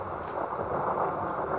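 Thunderstorm in a tornado survival video game: a dense, steady roar of rain and wind with a low rumbling undertone, loud and continuous without a break, no talking.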